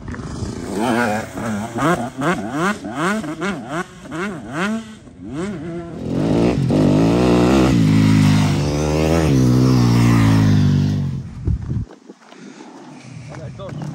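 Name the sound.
car driving a timed reference lap on a race circuit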